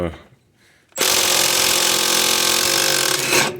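An impact gun loosens the axle nuts on a Honda Accord, a loud sustained whirring rattle that starts abruptly after a brief quieter moment and runs to the end.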